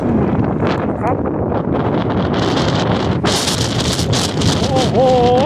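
Strong, cold sea wind in San Francisco buffets the microphone with a loud, steady roar and gusts, along with some brief faint higher tones.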